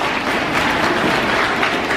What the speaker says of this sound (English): Ariana, give her a round of applause.